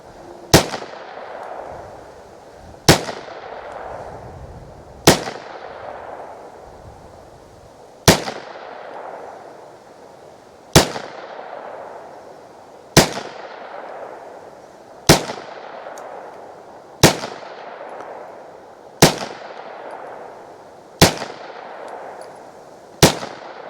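Sharp .22 LR rifle shots firing Federal Premium Punch ammunition, eleven single reports spaced about two to three seconds apart, each loud and close with a short ringing decay.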